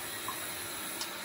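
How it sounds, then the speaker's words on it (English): Water runs steadily from a tap as a soft, continuous hiss, faint and unbroken, with no talking over it. "I gotta turn the water on first."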